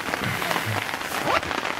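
Steady rain pattering on a small four-person tent in the wilderness, a dense continuous hiss close overhead with a soft voice briefly heard.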